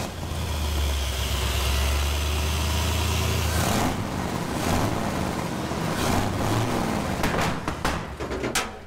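Engine of a huge off-road wrecker truck running close by, a heavy low rumble that drops to a rougher idle midway, followed by clanks and knocks near the end, no talk.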